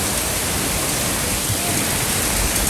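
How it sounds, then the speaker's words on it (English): Heavy rain pours steadily in Bangalore just after a hailstorm, a dense continuous hiss of downpour close by with no letup and no voices. "Guys, this is raining like crazy."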